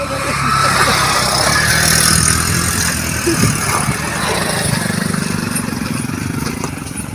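A motorcycle engine runs steadily at a ruined old site during a fair, with a broad constant motor drone and a brief bump around the middle, set against busy crowd noise and faint voices.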